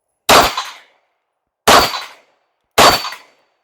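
Three loud, sharp pistol shots from a CZ 75 BD ring out close by, evenly spaced about a second apart, each with a brief echoing tail and silence between.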